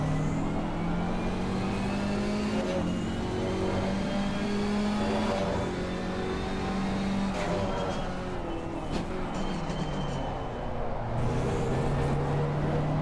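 Race car engines roar in the Assetto Corsa Competizione video game, a loud continuous engine drone rising in pitch under acceleration and dropping at gear shifts, with a rival car close by.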